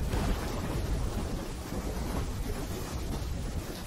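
Steady roaring rain and wind with a low thunder rumble from a storm in Call of Duty Black Ops 3, a dense unbroken wash filling the scene, loud and constant with no voices.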